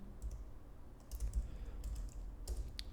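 Typing on a computer keyboard, a quick irregular run of close, fairly faint key clicks with short pauses between bursts and no talk.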